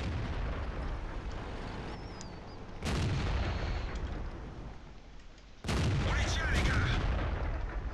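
Tank cannon shots from a tank video game with SU-100 and AT-2 tank destroyers: two heavy booming blasts a few seconds apart, each followed by a sustained rumbling roar over continuous background battle noise.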